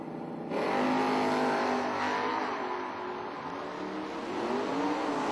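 An HRM Auto Mustang drag racing car on the Lucas Oil side launches at the strip, a loud sustained engine roar that holds steady and then swells slightly near the end, with no talking over it.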